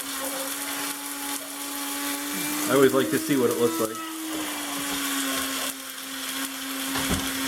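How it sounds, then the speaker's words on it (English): A steady electric coffee grinder motor whine runs throughout, with a burst of rough grinding in the middle as dried weeds are ground, while a person talks over it. "So what I did is we have this coffee grinder."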